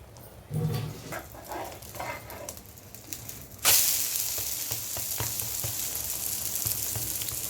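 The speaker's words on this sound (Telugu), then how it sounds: "ఆమ్లెట్ వేస్తాను." Beaten egg hits a hot pan and bursts into a loud, steady sizzle as an omelette fries, with light clinks before it is poured.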